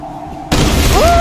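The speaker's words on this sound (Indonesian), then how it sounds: "Meledak guys." Sudden loud explosion bursts in the video game Tomb Raider Definitive Edition, a sharp onset followed by a sustained roaring blast and a brief rising tonal whine.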